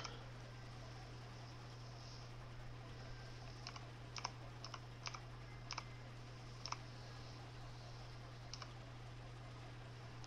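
Sparse, sharp keyboard clicks tap out irregularly over a steady low engine hum from the driving game The Long Drive, quiet and close, with no talking.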